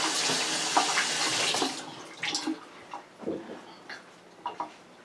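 Tap water runs steadily for a couple of seconds as hands are washed under it, then stops, followed by a few soft splashes and handling sounds, close by with no talk.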